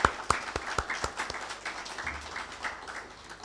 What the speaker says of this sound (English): that, milestone of being ready for the market deserves a round of applause